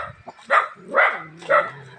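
Dogs on a road during a typhoon give three loud, close barks spaced about half a second apart.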